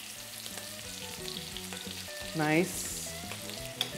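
Scallops sear in an oiled pan with a loud, continuous crackling sizzle up close, a sudden hissing flare midway as one is turned, and a brief word spoken over the frying.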